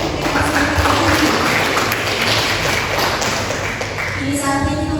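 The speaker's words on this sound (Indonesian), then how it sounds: "Boleh berikan tepuk tangan yang meriah untuk mereka semua." An audience applauds at a simulated campaign press conference: a steady, dense wash of clapping that holds at an even level for the whole stretch, with some voices mixed in.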